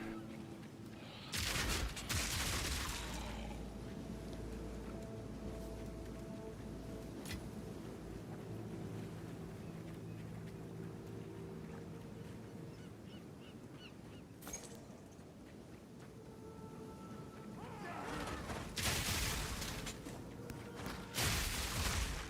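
Exploding bodies in Path of Exile 2 during a ritual map run: loud, dense bursts of popping blasts with clustered heavy hits near the start and again toward the end, over continuous game noise with a voice talking briefly.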